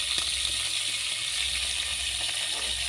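Onions frying with meat in a pan while cooking arrowroots, a steady soft sizzle and hiss with faint clinks, heard close and alone.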